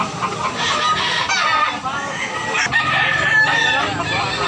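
Chickens cluck steadily in a dense, noisy yard while a rooster crows partway through, the whole scene loud and close throughout.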